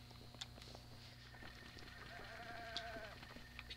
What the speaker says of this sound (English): Quiet, goat, you're gonna give away our position.